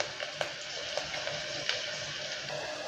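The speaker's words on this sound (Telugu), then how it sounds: "వీటిని కొంచెం గోల్డ్ కలర్ వచ్చే వరకు వేసుకుందాం" Onions and green chilies frying in oil for a rajma curry, a steady soft sizzle and crackle with a few sharper pops, close and continuous with no talking.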